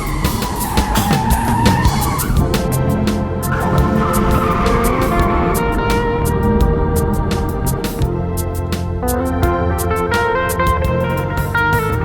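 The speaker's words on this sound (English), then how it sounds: "Hey, Rudy, give me the camera so you can drive a little faster" A car being driven fast on an Alpine mountain road: a loud engine revving and shifting pitch, with tyre squeal and a steady whine, continuous and up close with no talking.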